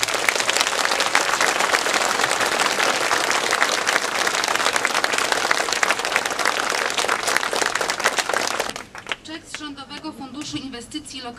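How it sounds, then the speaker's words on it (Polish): Dense applause from a large crowd at a Polish government event with the Prime Minister in Tomaszów Lubelski, loud and sustained for about eight seconds before cutting off abruptly, followed by a short stretch of speech. "Duże brawa"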